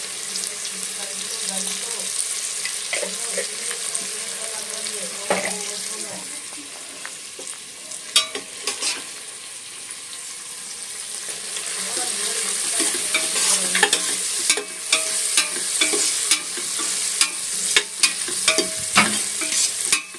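Food frying in a pan until brown, a continuous close sizzle and hiss with frequent spatula scrapes and clinks against the pan, running steadily throughout.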